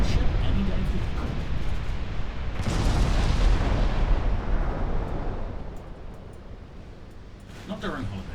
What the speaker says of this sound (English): That battleship is really taking a pounding.